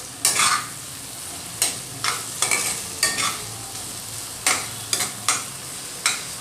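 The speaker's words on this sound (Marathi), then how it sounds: "छान मिक्स करून घ्यायची कोथिंबीर." Spoon stirring chopped coriander into eggplant bharit in a pan with oil, quiet scraping strokes repeating at irregular intervals over a faint background sizzle, no talking.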